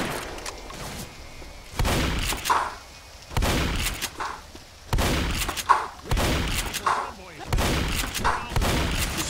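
Dual pistols firing at sprinting zombies in a video game: loud, close bursts of rapid shots in clusters spaced a second or so apart, with someone talking between and over them.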